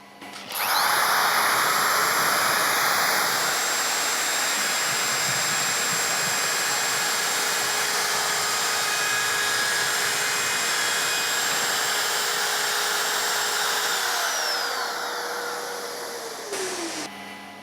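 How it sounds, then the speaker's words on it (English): Festool OFK 700 edge router with an extraction unit attached, trimming PVC edge banding: a loud, continuous high-pitched whine that holds steady for about fifteen seconds before winding down. "now we're ready to trim the edging"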